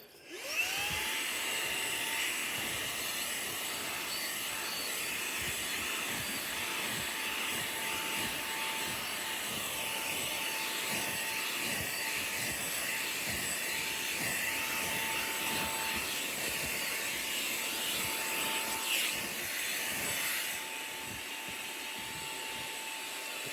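A Xiaomi Mi Vacuum Cleaner Mini handheld vacuum picks up dog hair, its motor starting with a rising whine and then running as a steady high-pitched drone for about twenty seconds, close and alone, with slight pitch shifts near the end.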